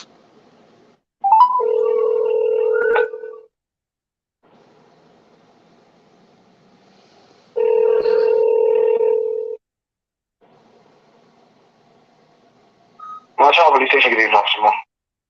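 Telephone call placed to an immigration office on Abaco in the Bahamas: two long steady ringback tones, each lasting about two seconds, sound a few seconds apart over faint line hiss, then a short burst of noisy line clatter follows near the end.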